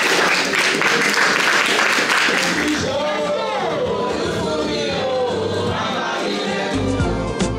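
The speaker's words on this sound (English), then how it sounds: "So a big round of applause to all of you." An audience claps in a room at a Black History Month celebration, a dense patter of applause that fades out as a single voice begins speaking over the last scattered claps.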